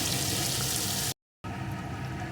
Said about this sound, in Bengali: এখন এই পাত্রটা ধুয়ে একটু জলও দিয়ে দেব